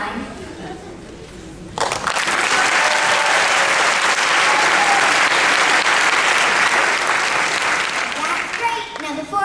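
Audience applause at an elementary school awards show, a loud, dense burst of clapping that starts after a quiet pause and holds steady for several seconds, with crowd chatter mixed underneath before it tapers at the end.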